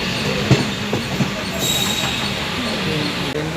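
The Machilipatnam Express on the Rajahmundry–Bhimavaram line rumbles through a curve, with a steady rolling roar, a few wheel clacks and a brief high squeal of wheels on the bend, heard from on board.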